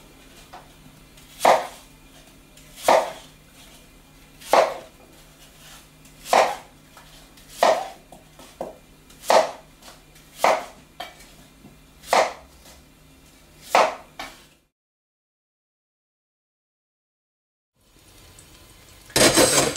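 A knife chops peeled, cored apples in half on a board. About eleven sharp, close thuds fall at a steady, unhurried pace, then the room goes silent.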